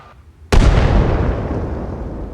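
Soviet mortar round in Arma Reforger firing as a single sharp, loud blast that rolls into a long rumbling decay, heard alone after a quiet start.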